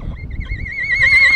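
A horse named Sage gives a loud, close whinny that rises into a bright, quavering neigh, over low rumbling handling noise on Amelia Island.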